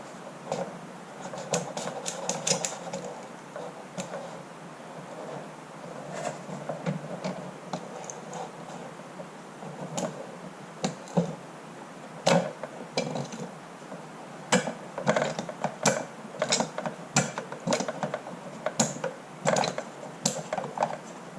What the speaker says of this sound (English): Stick that end, not even thread it in, just stick it in there and then just pump some oil.